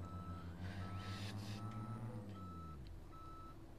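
A truck in Euro Truck Simulator 2 reverses slowly, its electronic backup alarm beeping steadily over the low hum of the diesel engine, the engine note dropping away near the end.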